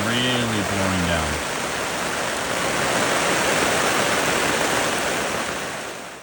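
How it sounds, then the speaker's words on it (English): Someone speaks briefly at the start, then a dense, loud wash of heavy rain pours steadily onto a campervan awning and roof, close and constant. "now it's really pouring down."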